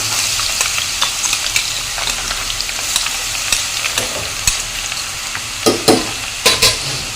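Crushed garlic sizzles and crackles steadily in hot oil while being tempered for a homemade mango pickle, a dense frying hiss with scattered pops and louder spattering bursts near the end, no voices.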